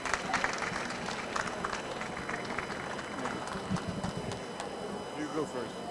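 Audience applause at an energy-savings awards ceremony, a steady broadband wash of clapping sustained throughout, with crowd noise beneath.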